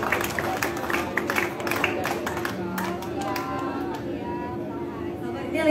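Audience at a political rally claps and cheers for a regional commander being introduced, a busy crowd applause with chatter mixed under an announcer's voice.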